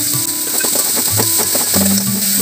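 Onions and vegetables for masala toast, with carrot and capsicum, sauté in a hot pan: a steady close sizzle with soft scraping and stirring strokes throughout and no talking.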